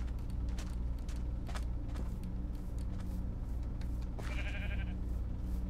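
Sheep bleat in the Minecraft video game, one short clear bleat standing out near the end over a low, steady background hum, fairly quiet overall.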